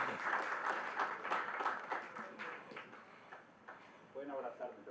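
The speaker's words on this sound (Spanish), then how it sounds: "Un buen aplauso, un abrazo" A modest audience at a book presentation gives a round of applause, scattered claps thinning out over a few seconds as a voice speaks over them.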